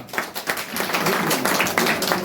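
Applause from an audience filling a hall at a Buddhist ceremony, a dense run of many hands clapping that holds steady and fairly loud for about two seconds.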